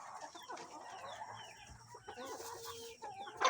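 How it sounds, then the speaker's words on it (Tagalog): Backyard chickens in a small Filipino coop, including Rhode Island Red, Barred Plymouth Rock, Black Australorp and native crossbreeds, clucking steadily with overlapping calls against faint farmyard background, no talk. "Yung na-share ko sa inyo kung ano yung mga klase ng manok yung dito sa ating munting manukan."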